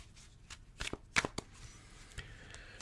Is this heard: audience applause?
no